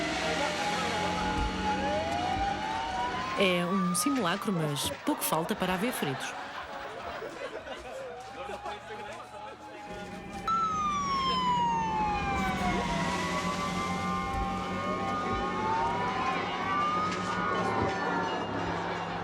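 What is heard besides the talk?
volunteer fire trucks arriving with sirens during fire drill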